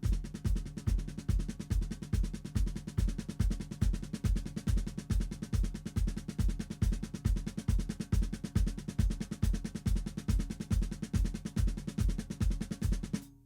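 A drum kit plays the opening eight bars of the instrumental section of a worship song, a steady, even kick-driven pulse with cymbal wash, repeating evenly throughout, close and clear with no voices.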